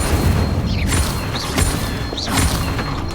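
Magical Incendio fire spell cast repeatedly in the Hogwarts Legacy video game, heard as three loud whooshing bursts with crackle roughly a second apart over a steady dense game soundscape.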